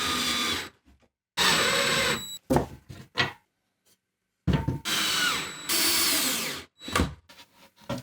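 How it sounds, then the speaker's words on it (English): A power drill drives pocket-hole screws into wood for a mobile workshop tool cart, several loud whirring bursts of a second or so each separated by short pauses, with no talking. "when I screw in the pocket holes"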